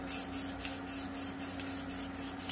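Spray paint comes out of a can in short hissing bursts while someone paints art, about eight rhythmic sprays in quick succession, loud and close.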